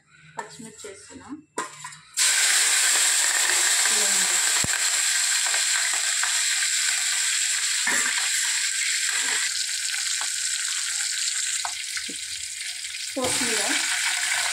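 Green chilies hit a hot pan and break into a loud, steady sizzle that fills the rest of the clip, with light stirring scrapes and a brief voice at the start.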